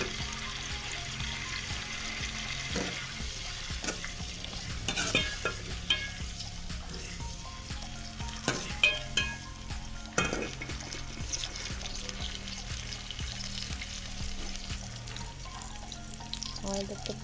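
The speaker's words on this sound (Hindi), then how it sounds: "इसमें डालेंगे प्याज।" Chopped onions frying in hot oil in a pan for a capsicum and potato dish, a steady soft sizzle with occasional sharp clinks and scrapes of a spoon against the pot.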